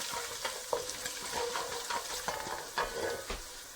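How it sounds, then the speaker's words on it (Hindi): Cinnamon, black cardamom and salt are stirred into a pot of vegetable pulao, a soft sizzle under repeated scraping strokes of a spoon, fairly quiet and close, with no talking. "सब स्पाइसेस को हम अच्छी तरह से मिक्स करेंगे।"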